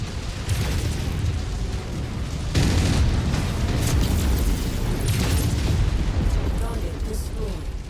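An enemy mech blows up in the MechWarrior 5 video game, a loud close explosion that surges partway through amid continuous rumbling gunfire and booms, with speech mixed in.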